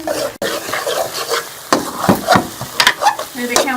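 Semolina halwa being stirred and roasted in ghee in a pan, steady sizzling with scraping spoon strokes against the metal, irregular bursts of stirring over continuous frying.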